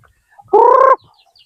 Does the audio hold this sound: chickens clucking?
yes